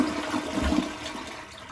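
A toilet flushing during bowl cleaning, a close, steady rush of water that swells and then tapers off, with no voices.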